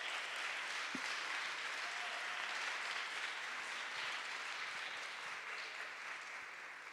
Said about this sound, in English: So I would say let's all do a great applause to them